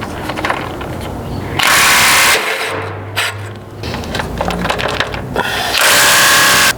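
A small breaker bar works on a penetrant-soaked bolt on a 4th Gen 4Runner skid-plate brace, loud and close, with bursts of harsh mechanical clicking, grinding and clunks separated by short quieter pauses.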